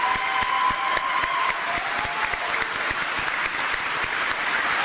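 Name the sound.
applause for the platform party at a graduation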